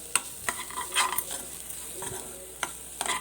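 Grated coconut frying in ghee while being stirred, a close crackling sizzle with scattered spoon scrapes and clicks against the pan.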